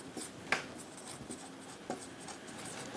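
Marker or chalk writing on a board during a maths lecture, faint scratchy strokes with a couple of sharper taps over a quiet room hiss, no voices.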